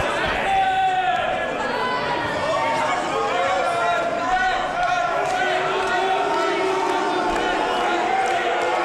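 Wrestling crowd at a wXw event roaring after a kick out, a dense sustained swell of cheering voices filling the arena, with commentary talk over it.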